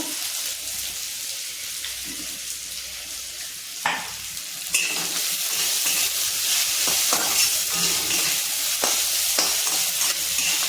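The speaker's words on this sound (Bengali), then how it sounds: "পেঁয়াজটা আমার ভাজা ভাজা হোক," Onions frying in a pan with a constant sizzle that grows louder partway through, punctuated by clinks and scrapes of stirring.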